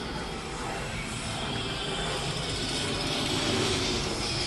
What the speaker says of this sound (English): there's airplanes flying around here